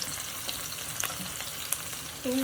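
Onion frying in a pan for a chicken curry: a dense, close hiss of oil sizzling steadily, with light stirring scrapes and a brief tonal clink near the end.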